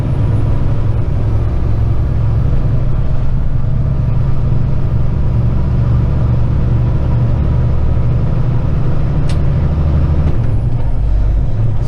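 A Kenworth heavy truck pulls hard as it accelerates up through its gears on a highway, heard from the cab. Loud, steady low engine drone with shifts in pitch as gears change, and no talking.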